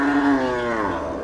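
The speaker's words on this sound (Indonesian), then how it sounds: "ini depan saya ada sapi" A single long, loud cow moo from a Pegon cow, close by, with a steady low drawn-out tone that slowly bends in pitch.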